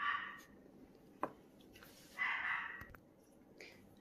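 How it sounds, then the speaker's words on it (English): Household dogs bark from another part of the house, a few muffled, distant yaps spaced across a quiet room with faint background hiss. "Excuse my dogs. What are they barking at?"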